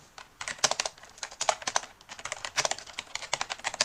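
Rapid, uneven keystrokes on a computer keyboard while typing text, close and clear, coming in quick bursts with brief pauses and no talking.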